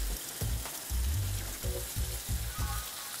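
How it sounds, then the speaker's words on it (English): Spiced Bombay potatoes fry gently in a pan over low-to-medium heat, giving a steady close sizzle with soft low knocks and bumps throughout. No one talks. "we're just gently going to fry the potatoes"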